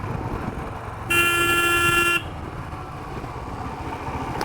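Heavy road traffic on a rainy monsoon road, with a low rumble of engines under a single loud horn blast lasting about a second.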